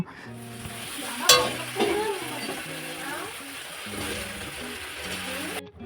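Ginger, cumin, garlic and dried chili masala sauté in a pan before jackfruit is added, with a low continuous sizzle, occasional stirring scrapes and a voice talking over it.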